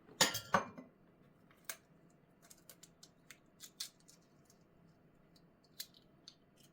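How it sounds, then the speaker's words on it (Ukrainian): Chilled eggs cracked and separated into yolks and whites in a kitchen: a few sharp cracking taps up front, then scattered light clinks and drips of shell and bowl, close and quiet. "А зараз ми також беремо яйця, які розділяємо на жовтки та білки."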